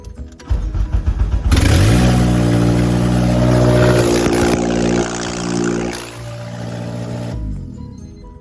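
A turbocharged Honda K24 engine in an EJ8 car cranks briefly and catches, then settles into a loud, steady close-up idle with a bright turbo whine on top and slight shifts in pitch.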